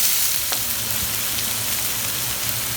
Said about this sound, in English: Now let us add the chopped onions first. And fry this till they become translucent.